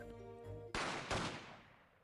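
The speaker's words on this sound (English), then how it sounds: "2 gunshots." Two sharp gunshots in the game The Great Ace Attorney, nearly back to back about a third of a second apart, loud and close, ringing out into a fading tail after a quiet musical lead-in.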